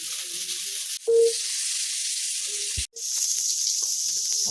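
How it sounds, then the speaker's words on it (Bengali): Chunks of pointed gourd (potol), cut fairly large, sizzle steadily in hot oil in a kadai, a continuous close, bright frying hiss with a brief stir-like break near the end. "এর জন্য পটলগুলোকে একটু বড় সাইজের কেটে নিয়ে সেটাকে ভালোভাবে ভেজে নিতে হবে।"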